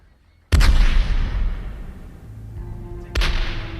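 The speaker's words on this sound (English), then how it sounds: "the citizens of Havana awoke to a cannon shot" A single heavy cannon boom erupts and rolls away in a long rumbling echo, followed by a second distant blast a few seconds later.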